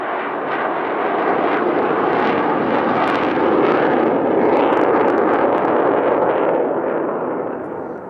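A loud, sustained roar of a US Navy Blue Angels F/A-18 Super Hornet jet passing overhead at a Fleet Week airshow, broad and rushing, swelling slightly in the middle before easing off.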